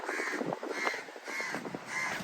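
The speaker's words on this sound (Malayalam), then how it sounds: "നമ്മുടെ നാട്ടിൽ നിന്ന് വന്ന കാക്കാളുണ്ട്" Indian house crows caw in a landscaped park at Haql in Saudi Arabia near the Jordan border, giving a series of four or five harsh, evenly spaced caws at a moderate distance.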